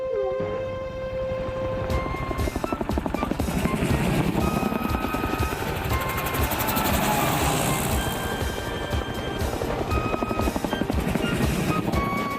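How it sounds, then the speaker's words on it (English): A helicopter's thudding rotor chops steadily throughout, loud and continuous, with a whining engine tone layered over the rhythmic beat. "That night, 6 helicopters and 200 troops squelched into London under the command of one Colonel Buffy."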